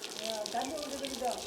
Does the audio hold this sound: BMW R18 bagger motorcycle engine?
no